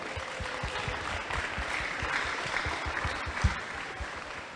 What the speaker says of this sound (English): Ladies and gentlemen, please give a round of applause for each and every one of us in the studio now